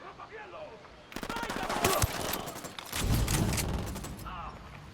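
Rapid automatic gunfire from the tactical shooter Ghost Recon Wildlands on Xbox One: loud, dense bursts of rattling shots that run almost continuously over a few seconds, then thin out at the end.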